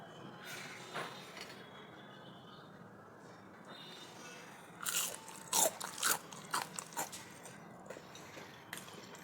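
Crisp corn fritters are snapped and bitten close up, a quick cluster of loud, brittle crunches after a quieter start.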